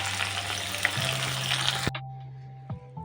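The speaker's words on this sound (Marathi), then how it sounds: "कांदा टाकून घेऊया आणि चांगला व्यवस्थित भाजून घ्यायचं आहे गोल्डन ब्राऊन होईपर्यंत" Onion frying in hot oil for a prawn rice dish gives a loud, close, hissing sizzle that cuts off abruptly partway through, followed by a few quiet clinks.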